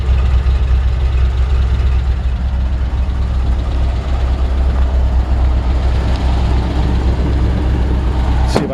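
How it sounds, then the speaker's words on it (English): A 1953 Ford F-100 pickup's flathead V8 idles steadily, a low, even rumble with a downturned exhaust heard up close and continuously throughout, with no talking. "Nice, healthy sounding flathead V8."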